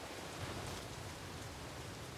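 Steady rain falls in an audio drama, a dense, even hiss of drops with no breaks and no voices, fairly soft.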